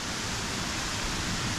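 A hidden waterfall near Sydney roars steadily as a loud, dense, unbroken rush of falling water, close by and with no voices over it.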